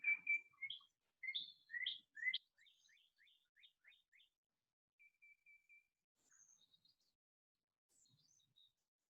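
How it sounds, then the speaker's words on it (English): Bird chirps and tweets scattered across quiet air: a bright opening call, then a quick run of sharp repeated chirps, followed by fainter, sparser calls trailing off, with no voices. "the birds chirping in the background"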